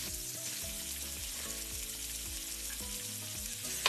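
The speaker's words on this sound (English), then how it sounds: "that is the sizzle that I want to hear" Steady, loud sizzling of beef browning in a hot pot for stew, a continuous crackling hiss with no voices.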